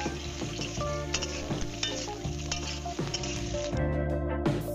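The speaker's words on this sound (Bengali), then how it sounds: "দিয়ে দিচ্ছি কেটে রাখা আলু, ঝিঙে, আলু ও ঝিঙেটাকে ফোড়নের সাথে একটু নাড়াচাড়া করে নেব।" Diced potatoes and ridge gourd stir in tempered oil, a loud close sizzle with rhythmic spatula scrapes and knocks against the pan, and no voices.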